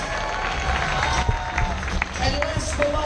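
Crowd at a hairy chest contest clapping and cheering for contestant number 7, a busy, lively burst of applause mixed with crowd noise and talk.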